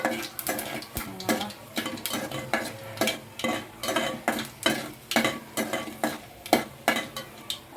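Spices and curry leaves frying in oil on low heat for coconut rice, with a steady sizzle and repeated rhythmic stirring scrapes against the pan, close and moderately loud, no voices.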